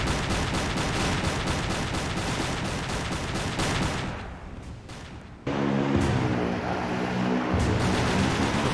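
Rapid bursts of flak gun fire from a submarine deck gun in the Silent Hunter 3 naval game, loud and continuous, briefly dropping before a sustained rumbling and hum return.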